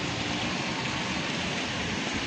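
Steady rain falling outdoors, a dense continuous hiss with no pauses, close and fairly loud throughout.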